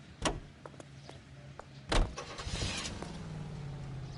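Lincoln Model K convertible roadster from LA Noire, with a couple of sharp door-like clunks and thumps followed by a low idling car rumble and mechanical shuffling, close and moderately loud.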